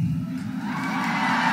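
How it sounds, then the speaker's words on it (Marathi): Audience at a stage event with politicians cheering and whooping, a dense crowd roar that swells steadily over the short moment; whistles cannot be picked out clearly. "अरे टाळ्या विथ चिट्ट्या"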